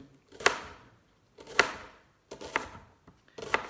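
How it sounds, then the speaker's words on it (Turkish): Onions and tomatoes are chopped with a knife on a board in four separate sharp strokes, each a crisp close thud spaced about a second apart, with quiet between them. "Şimdi soğan işte domates falan doğrayacağız."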